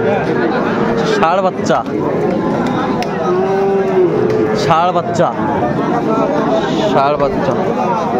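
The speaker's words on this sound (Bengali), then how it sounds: "এই যে একটা ষাঁড় বাচ্চা।" Cattle, including young bull calves, low and moo at a busy outdoor cattle market in Aftabganj, Dinajpur, Bangladesh, while people talk and a crowd murmurs close by.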